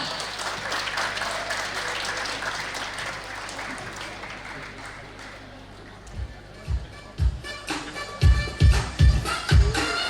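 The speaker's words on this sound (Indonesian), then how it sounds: "Mari kita sambut Kalyana Project dengan tepuk tangan yang meriah." Applause from an audience welcoming performers onto a stage at a Dhamma youth event, a broad even clatter that thins out, followed by heavy thumping impacts and knocks near the end.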